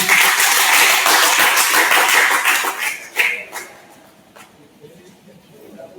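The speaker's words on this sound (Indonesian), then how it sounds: "Tepuk tangan untuk kelompok 4." A classroom group claps loudly and briefly, the applause dense at first, then tapering off into a few scattered claps and quiet room noise.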